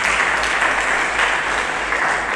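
A church congregation claps together during a Sunday sermon service, a continuous even wash of applause at moderate level over a low background hum, with no talking.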